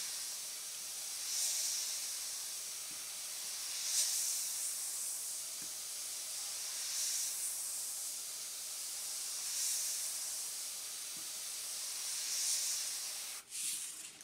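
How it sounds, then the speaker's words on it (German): Airbrush spraying black paint onto a cigarette box, soft steady hiss in repeated short bursts spaced a couple of seconds apart, quiet and close with faint taps between. "An der Stelle, wo nachher die Glut brennt, brushe ich einen kleinen schwarzen Rand an."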